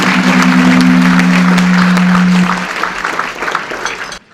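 An MLK luncheon crowd gives a singer a round of applause, loud sustained clapping over a steady low hum from the sound system that stops partway, with the clapping thinning out and ending abruptly.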